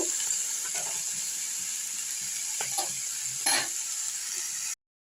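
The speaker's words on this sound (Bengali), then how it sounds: "পুঁই মিচুরিটাকে একটু আমি ভেজে নেব।" Malabar spinach seeds (pui metuli) frying in a pan give a close, steady sizzle with a few stirring scrapes, and the hiss cuts off abruptly at the end.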